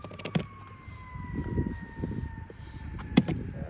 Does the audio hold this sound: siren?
yes